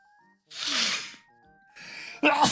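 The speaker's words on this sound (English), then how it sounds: "That's the most violent sneeze I've had in a long time." A violent human sneeze bursts out close and loud, with a sharp breathy intake before it and a second forceful blast of air, heard alone without talk.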